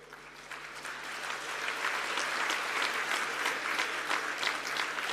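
A large audience in a university hall claps steadily, the applause swelling slightly and holding at a moderate level, with clapping louder from the back of the hall and no voices above it.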